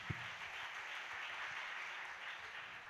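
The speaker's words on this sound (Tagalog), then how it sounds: "Yun lang ang palakpak natin." Congregation applause in a church, steady continuous clapping from many hands, moderately distant and even throughout without a break.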